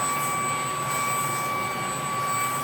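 A Shark Ion P50 cordless vacuum cleaner runs at close range, a loud constant motor whine with steady high tones over a rushing airflow hiss.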